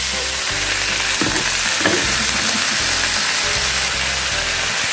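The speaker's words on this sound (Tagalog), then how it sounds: "Just stir a little bit until the chicken cook already." Chicken pieces for afritada sizzle loudly in a hot pan while being stirred, a dense, constant hiss close up with occasional scraping strokes of the spoon.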